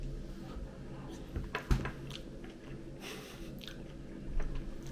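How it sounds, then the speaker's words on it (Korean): Someone chews food bought at a Swedish supermarket, a Korean dish seasoned with coriander, making soft, close, moist chewing and light crunching sounds against a quiet background. "한번 먹어보겠습니다."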